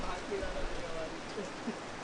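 Rain hisses steadily over an outdoor ultimate frisbee match in the Mumbai Ultimate League, a constant soft wash under a commentator's faint voice.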